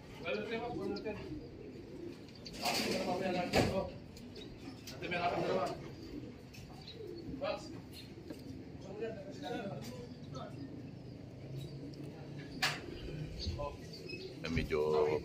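Racing pigeon hens at a loft give soft, repeated coos with scattered chirps and occasional bursts of wing flapping, while someone talks nearby through much of it.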